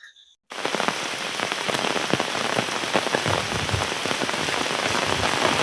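Heavy rain pours down steadily and loudly after a brief silent start, a dense continuous patter of drops on surfaces with occasional sharper hits, outdoors ahead of cutting bamboo for bamboo biryani.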